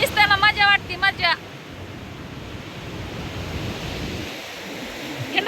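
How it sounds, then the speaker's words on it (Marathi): Ocean surf rolls onto the beach at Ganpatipule, a steady broadband wash with wind noise, loud and close, while people talk briefly at the start and again near the end. "हो लाटा"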